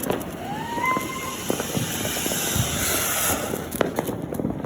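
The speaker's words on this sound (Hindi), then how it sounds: "अभी हम फाड़ेंगे एक अनार पकवाड़े में" An anar fountain firecracker goes off outdoors during Diwali celebrations with family, a rushing, crackling hiss with a brief rising whistle early on and scattered sharp pops throughout.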